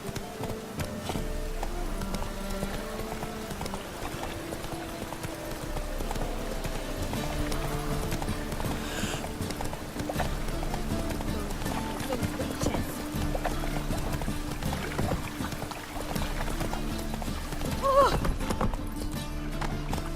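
Roach, a horse in The Witcher 3, gallops with a rapid, steady clip-clop of hooves throughout, close and continuous, under game music and voices.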